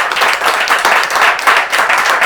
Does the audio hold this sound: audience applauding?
yes